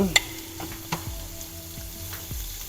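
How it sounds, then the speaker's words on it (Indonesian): Green beans and squash being stirred and stir-fried in a pan, with a steady sizzle under sharp scrapes and clinks of a utensil against the pan, close up and with no talking. "kita aduk dulu sampai merata"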